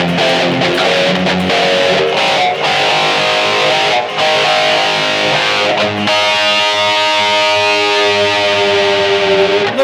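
An electric guitar plays through a BOSS eBand JS-10, heavily distorted and sustained. Chords ring loud and continuous with short rhythmic breaks and no voices.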